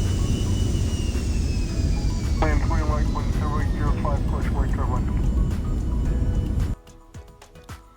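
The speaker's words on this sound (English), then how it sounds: "I'm going to be quiet now so you can hear the engines on this." A Cirrus jet in the X-Plane Mobile flight simulator game gives a steady, loud whine and roar. A warbling tone rises over it midway, and the sound cuts to a quieter hum near the end.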